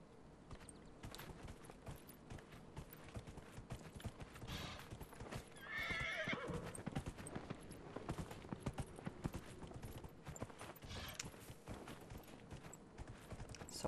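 Horse hooves clip-clopping at a gallop in the fantasy game Dragon Age Inquisition, steady and close throughout, with a whinny rising midway over the hoofbeats.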